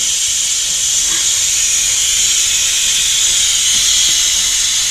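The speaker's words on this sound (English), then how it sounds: "now we move the little nozzle to the pressure relief, and that's what we're waiting for, all this pressure to come out." A pressure cooker of beans vents through its pressure relief valve, a loud, steady, close hiss of escaping steam that continues unbroken throughout.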